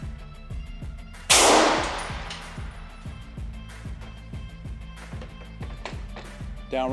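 A single loud rifle shot fired into a Team Wendy Rifletech helmet: one sharp, close blast with a decaying echo, set against a steady rhythmic low thumping in the background.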